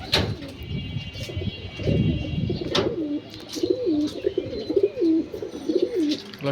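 Pigeons in a backyard loft give repeated rolling coos, several in a row in the middle distance, with faint chirps, rustling and a few sharp knocks around them.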